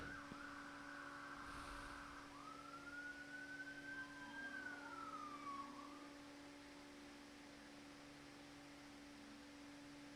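A siren from a passing emergency vehicle in a procession of cars wails faint and distant, one rising and falling sweep drifting over a steady background hum, with no talk.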